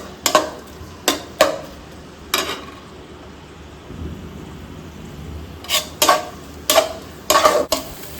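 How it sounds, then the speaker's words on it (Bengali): Onion frying in mustard oil, faint background sizzle broken by a handful of sharp scraping stir strokes and utensil knocks against the pan, close, in two clusters with a quieter pause between. "আর একটু তেল দিলাম, যে পেঁয়াজটা ভাজা হবে।"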